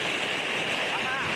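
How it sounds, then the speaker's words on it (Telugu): Dam water released at full force from Bhandardara Dam in Maharashtra during the monsoon, a loud, steady, broadband roar of rushing water that fills the scene without a break, close and overwhelming. "చూడండి, హెవీ ఫోర్స్లో వస్తుంది. ప్లస్ చూడండి వాటర్ ఫ్లో ఎంత వెళ్తుందో,"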